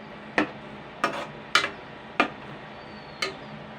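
Fish roe frying in a pan over a low flame, stirred with a utensil that gives five separate scraping knocks spaced about a second apart, close and fairly loud, with no talking.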